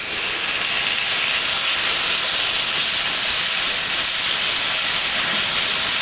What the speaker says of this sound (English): we're going to sear the steaks on each side on our iron plate